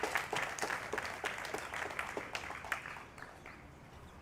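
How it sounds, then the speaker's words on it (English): An audience at an international yoga celebration event applauds a guest speaker, a steady wash of many hands clapping at moderate distance that gradually thins and fades toward the end. "we really want to give a nice round of applause for someone who traveled all the way across the ocean just to come here and speak today."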